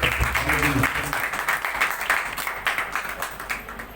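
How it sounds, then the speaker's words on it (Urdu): A church congregation claps loudly at a Pentecost service, a dense burst of applause that gradually thins and fades, with some voices and cheering mixed in near the start. "زوردار تالیاں"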